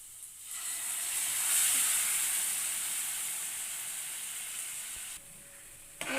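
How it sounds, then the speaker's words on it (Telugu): Tomato puree for red sauce pasta frying in a pan gives a steady, fairly loud sizzling hiss that swells near the middle and drops off briefly toward the end, with no voices. "ప్యూరీని మంచిగా ఫ్రై చేసుకుందాం ఒక 5 minutes"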